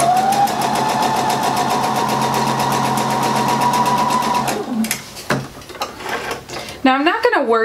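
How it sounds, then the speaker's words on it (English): A sewing machine stitches mini spool quilt pieces at a scant quarter-inch seam, humming loudly and steadily for several seconds before slowing and stopping, followed by handling clatter and a brief voice. "I'm gonna change her to a scant quarter inch, and I'm just gonna sew down each one of these sides here."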